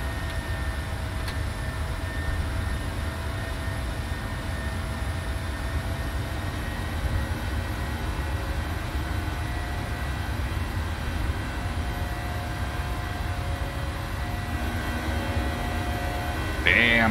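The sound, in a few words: PMDG Boeing 737-700 in flight simulator, video game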